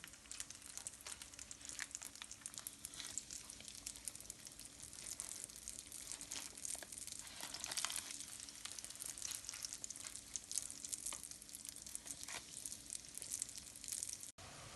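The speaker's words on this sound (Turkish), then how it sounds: "Hamurlarımızı orta ateşte kızartalım." Steady crackling sizzle of donut dough frying in hot oil over medium heat, continuous and close, with a dense hiss throughout and no voices.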